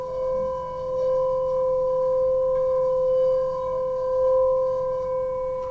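A gong or singing bowl rings steadily with one strong main note and a few fainter harmonic overtones held above it, sustained and even over a low wash of background hum.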